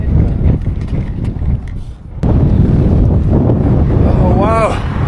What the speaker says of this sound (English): This wind is so insane.